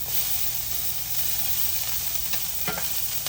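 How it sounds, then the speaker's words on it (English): Onions with salt cooking down in a pan, a steady close sizzle and hiss of frying with occasional stirring scrapes and no voices. "We're going to add a little salt to those onions so they'll start cooking down."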